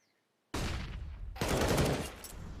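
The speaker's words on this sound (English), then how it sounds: "Oh, good flashbang." A flashbang grenade goes off in a Counter-Strike match on the Inferno map, a sudden loud burst of noise that rings on and then flares again with more bursts, with no talk over it.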